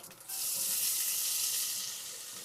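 Loud, steady hiss of fennel seeds, chopped onions and green chillies hitting hot oil for Sri Lankan chicken potato roti, a sudden onset that holds as one continuous sizzle with no talk.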